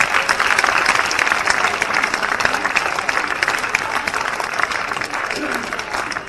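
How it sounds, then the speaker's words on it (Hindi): An audience claps loudly and continuously for children performing at an alumni meet cultural evening, a dense wash of applause that fades slightly toward the end. "चलिए एक बार फिर से जोरदार तालियां इन बच्चों के लिए।"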